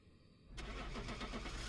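A truck engine in Phasmophobia cranks and catches after a half-second of near silence, then settles into a steady, moderately loud idle with a brief knock near the end.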